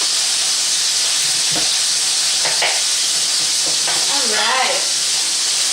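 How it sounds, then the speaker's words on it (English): Meatballs frying in a pan give off a loud, steady sizzle and hiss throughout, with a brief spoken word near the end. "Oh wow, our meatballs are really going, guys."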